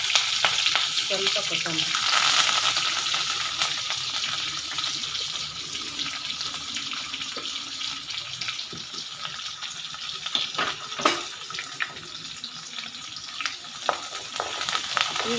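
Green chillies and curry leaves sizzle steadily in hot oil as a tempering for cucumber kosambari, with loud, even frying and a few sharp crackles, while a voice speaks briefly.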